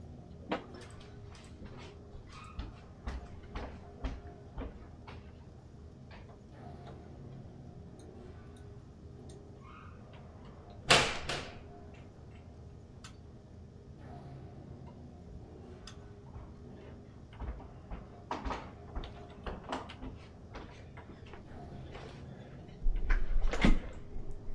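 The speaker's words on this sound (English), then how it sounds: "I'm going to close the back door" A back door swings shut in a quiet home with a single sharp thud near the middle, surrounded by faint scattered clicks and light household ticks.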